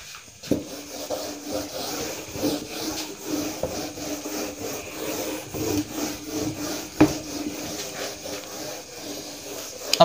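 A duster rubbed across a classroom board, giving repeated soft scraping strokes at close range in an uneven rhythm, with a sharper knock partway through and no talking.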